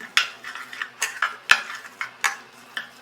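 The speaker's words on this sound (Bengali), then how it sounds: "দিয়ে ভালো করে এটাকে মিক্স করে নিতে হবে।" A spoon mixing paneer pakora marinade batter in a bowl: a series of sharp, close clinks and scrapes against the bowl, roughly evenly spaced, with soft wet stirring between them and no talk.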